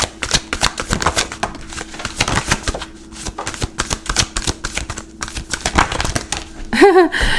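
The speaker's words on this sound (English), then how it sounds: "what happens when I shuffle with the whole deck in my hand" A tarot card deck is riffle-shuffled by hand in a quick run of crisp, papery flicks and snaps close to the mic, briefly pausing midway before resuming, with a short different sound near the end.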